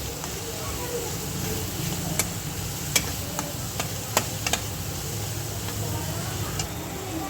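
Spices fry in a pan for pasta, making a constant low sizzle with scattered sharp ticks from stirring, close and fairly quiet throughout.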